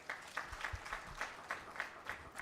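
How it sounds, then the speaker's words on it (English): An audience gives a brief round of applause, a steady patter of hand claps heard fairly faintly in a room, with no speech over it. "A round of applause for her."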